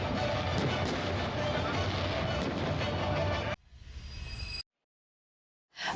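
Fireworks burst at a launch ceremony in Kuantan, Pahang, held with a parade of decorated boats. A dense, loud wash of crackles and booms runs for several seconds, then thins to a quieter rumble before dropping out.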